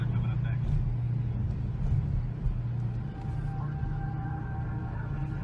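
A car driving down a street gives a steady low engine and road hum from inside the vehicle, recorded by a dashcam, with a person talking over it.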